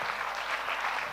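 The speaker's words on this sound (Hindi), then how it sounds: "तालियां जोरों से बजाइए, दीप प्रज्वलन" A brief, steady burst of audience applause marks the lamp-lighting ceremony at a quiz event in Jaipur, heard alone and moderately loud.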